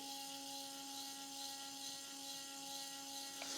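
An electric coffee grinder with conical burrs runs steadily at low speed, a constant close motor whine with a steady hum holding throughout, no voices.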